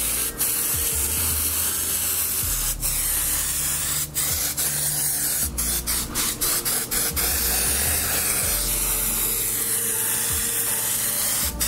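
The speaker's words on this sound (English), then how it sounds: "So I'm just spraying around her face and her neck area just to add the base" ProAiir airbrush spraying Halloween zombie makeup at low pressure onto a face and neck, a steady continuous close hiss with brief pauses and restarts, no talking.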